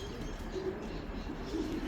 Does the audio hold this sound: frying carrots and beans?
no